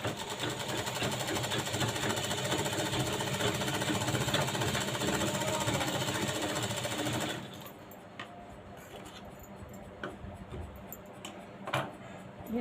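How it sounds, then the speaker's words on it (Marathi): A sewing machine stitches a cross strip onto a blouse lining, a loud rapid mechanical chatter running steadily for about seven seconds, then stopping to quiet handling noises and a few clicks. "इकडच्याही बाजूला आपल्याला शिलाई करून घ्यायची आहे"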